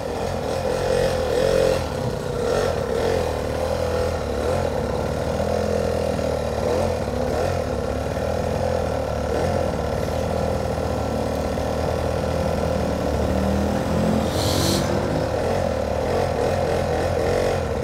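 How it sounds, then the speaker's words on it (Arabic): Street traffic of motorcycles and motor tricycles in Guelmim, with several small engines idling and revving as they pass close by, a continuous mechanical hum with rising and falling throttle bursts and a brief high hiss near the end. "دراجات ناريه، تريبورت، شوف شحال ديال تريبورت يا بنت الصحراء"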